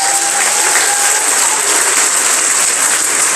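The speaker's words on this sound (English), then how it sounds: "Let's give all these youngsters here a big round of applause." Sustained audience applause at a youth rodeo closing ceremony, a dense, steady wash of clapping at full volume throughout, with no pauses or voices standing out.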